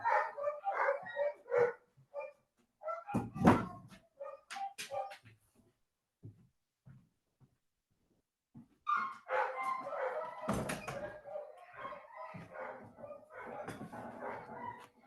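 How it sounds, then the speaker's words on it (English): Dogs barking inside a family home, bursts of loud, close barks and yips in two clusters separated by a quieter stretch, with some background voices. "you'll have to deal with those dogs"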